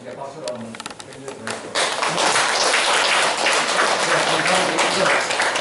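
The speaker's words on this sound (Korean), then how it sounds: "강의하실 우리 엄마님께 박수로 한번 격려" Audience applause for a guest lecturer at a special talk, starting as scattered claps under a voice and swelling after about two seconds into loud, dense, sustained clapping from a full room.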